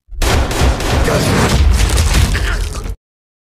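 A sharp, loud burst of gunfire from the anime Kaiju No. 8 erupts at once and rattles on for about three seconds in dense, overlapping cracks and booms, then cuts off abruptly.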